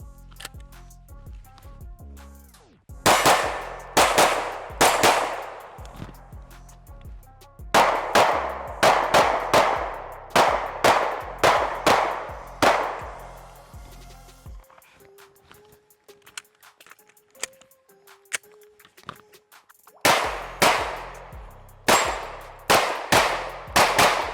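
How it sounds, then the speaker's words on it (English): A Sig P320 Flux Legion pistol fired in quick strings of sharp, loud shots, several rapid bursts separated by pauses with light clinks and handling noise between them, no talk. "I like to do my shooting."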